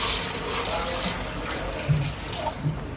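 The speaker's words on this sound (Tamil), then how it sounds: "இப்போ நான் தண்ணி ஊற்றிடுறேன், ஏன்னா ரொம்ப நேரம் வேகும்" Water pours steadily into a large pot for chicken biryani, a continuous close splashing rush with a few small splashes, while a voice talks faintly underneath.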